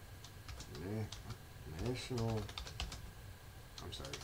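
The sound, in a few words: typing on a computer keyboard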